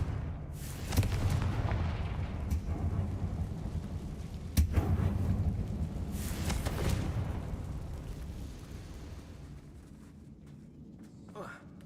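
Confringo blasting spells cast in the Hogwarts Legacy video game, several booming explosive bursts and whooshing blasts over rumbling game background, with a voice talking throughout.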